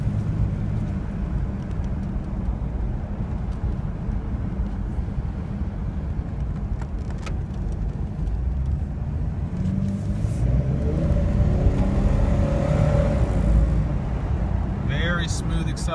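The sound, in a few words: lifted Jeep Cherokee driving and accelerating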